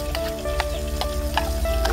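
Yellow spice paste sizzling as it is added to pork frying in a pan, a dense close crackle with sharp bursts from stirring.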